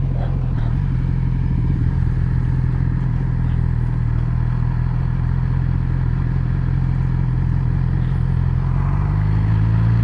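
A 2017 Yamaha R6 sport motorcycle held in first gear, its engine a steady, loud, close drone throughout with a slight rise in pitch near the end.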